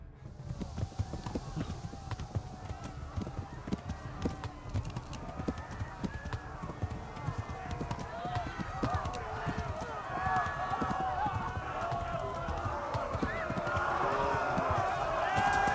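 Rapid, steady hoofbeats of a galloping horse in the video game Kingdom Come: Deliverance throughout, with a voice talking over the drumming rhythm.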